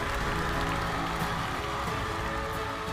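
Studio audience applause on a televised singing competition, a steady, even patter of many hands that holds at a constant level throughout, somewhat muffled, with no voices over it.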